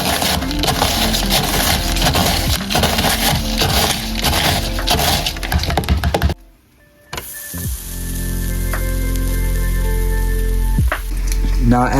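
Spam sizzles in an oiled pan, a close, loud crackling fry with clattering handling noises. After a brief near-silent gap, a steadier, softer sizzle continues.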